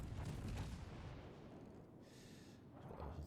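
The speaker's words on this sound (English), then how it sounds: "Let's see if we get another salve off on the Nagato first though." Main battery salvo from the HMS Nelson, a Tier VI battleship in World of Warships, rolls out as a loud, sustained broadband boom and rumble that fills the whole moment before fading slightly, with no talk.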